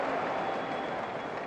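Crowd noise fills the stands at the US Open tennis final between Pegula and Sabalenka, a steady, diffuse murmur with scattered claps and no clear break.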